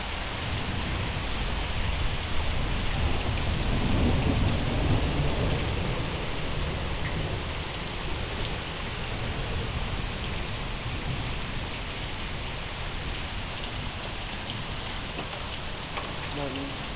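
Steady rain pours down continuously, a dense hiss of drops on surfaces; no distinct thunderclap stands out.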